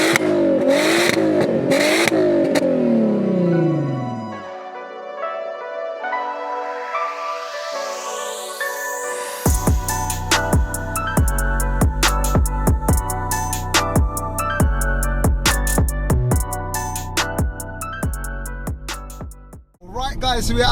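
A 462 bhp Volkswagen Golf R32 Turbo revs hard and loud up close, rising and falling, then crackles with a rapid run of sharp pops and bangs over the engine drone, with voices talking over it.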